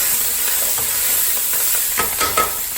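A Cajun Asian fusion seafood boil being stirred in a pot, a steady close sizzle and hiss with a few scraping stirring strokes toward the end.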